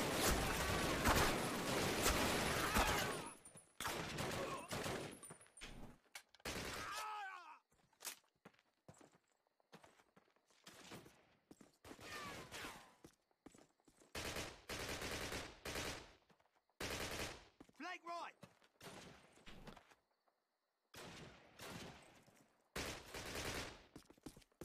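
Bursts of LMG machine gun fire in Call of Duty, loud rapid volleys broken by short pauses and a few quiet gaps, repeating across the whole stretch.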